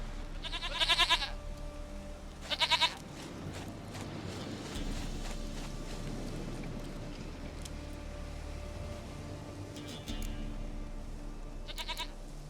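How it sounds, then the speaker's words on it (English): Goat bleats in The Witcher 3, short bursts near the start and end over a steady game ambience with mechanical background hum. "Goat of mine, dearest, sweetest goat."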